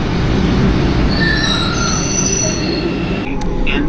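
A Cairo metro train rumbles loudly along the track as its wheels squeal in long, high, wavering tones, with a brief metallic screech near the end.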